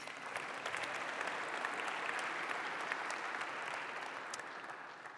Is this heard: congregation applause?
yes